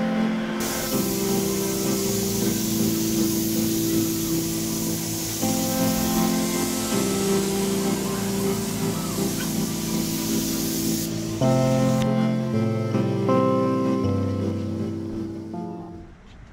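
Spray gun dusting a light base coat of paint onto a Ferrari fender, a steady loud hiss that runs without pause for about eleven seconds, then changes and tapers off near the end over a faint background hum.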